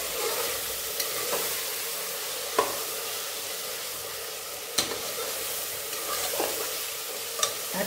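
Chicken with spices stirred in a hot pan, a steady sizzle of frying punctuated by occasional scraping clacks of the spoon against the pan, close and loud with no talk.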